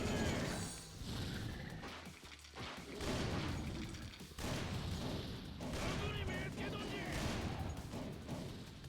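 Dense video game gunfire from Yakuza Dead Souls, continuous rapid bursts of shots with heavy impacts and brief pauses, loud and busy, with a voice talking over parts of it.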